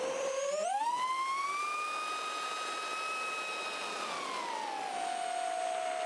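An FPV racing drone with RCINPower kV motors spools up for takeoff, a steady rising motor whine that climbs in pitch, holds, then drops as the throttle eases.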